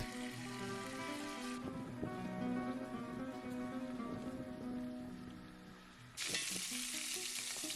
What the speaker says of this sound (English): So we're instructed to fry the cheeks, and once nicely coloured, to remove them from the pan.